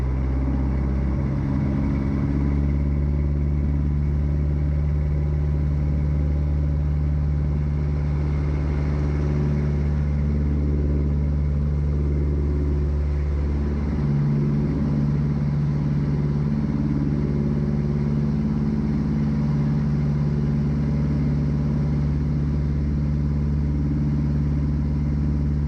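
Small plane engine at full throttle for takeoff from Brantford Municipal Airport, a loud, continuous droning roar with a steady low hum that shifts slightly in pitch midway, heard from inside the cockpit.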